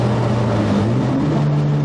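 Car engine fitted with ID1700 fuel injectors holds a steady, loud rev with a sustained droning hum and a slight pitch shift midway, running continuously with no pauses.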